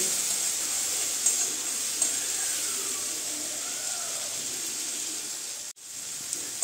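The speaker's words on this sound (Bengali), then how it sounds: "আদা রসুনের পেস্টটা আমি ভালো করে কষিয়ে নেব বাটারের সঙ্গে।" Ginger garlic paste sizzles steadily in butter in a pan, a continuous soft hiss with light crackles and an occasional stir, unbroken until a brief drop near the end.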